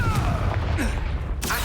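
Confringo fire spell blast in the Hogwarts Legacy video game: a loud, dense booming burst with a fiery roar and crackle, close and continuous, with a second swell of blast noise near the end.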